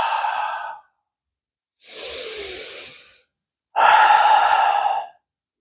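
A yoga instructor takes three deep, breathy respirations close up, each a long airy hiss of a second or more separated by short silences, with no words spoken.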